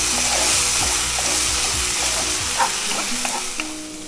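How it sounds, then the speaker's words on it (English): Masala for stuffed pomfret sizzles and fries in a pan. It is stirred with scraping strokes, and the crackle stays continuous and close throughout, with no talk over it. "let it saute for another 3 or 4 minutes"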